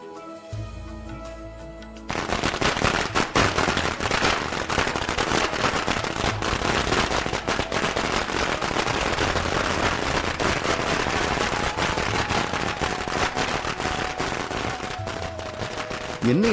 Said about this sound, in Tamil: என்ன இது வேட்டு சத்தம் எல்லாம் கேக்குது?